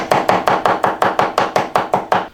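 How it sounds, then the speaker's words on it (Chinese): Ginger, garlic and fish mint are chopped with a knife on a board, about thirteen quick, even, crisp strikes in a steady rhythm, close and alone. "剁点姜蒜哈，拌成半折耳根一起，把它切碎就是了。"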